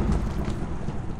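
A burst of thunder from a lightning strike in the game Minecraft 1.12.2, with the Parasite mod installed, booms as a loud, dense low rumble that fills the whole moment with no break.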